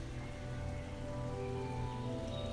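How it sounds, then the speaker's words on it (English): Rain pours steadily in the Farming Simulator 25 farm game, a constant hissing wash of drops with faint tonal hum underneath and no voices. "So hopefully it will stop raining this afternoon."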